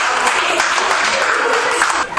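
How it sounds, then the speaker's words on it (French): Steady applause from an audience honouring young people receiving trophies at an award ceremony, continuous and fairly loud with no pauses, some voices mixed in. "on l'applaudit"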